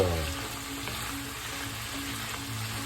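Pork fat rendering in a pan for dinuguan, pork blood stew, giving a continuous low sizzle and bubbling at close range, with no voices.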